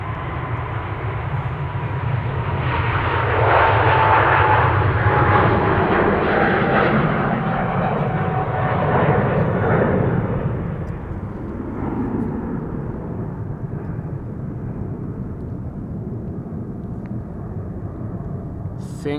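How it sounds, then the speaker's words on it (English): A retro-livery Garuda Indonesia Boeing 777-300 departing Amsterdam Schiphol for Jakarta: a loud, close jet roar that swells to a peak with a descending whine, then slowly fades into a distant rumble. "Garuda Indonesia 777-300 to Jakarta."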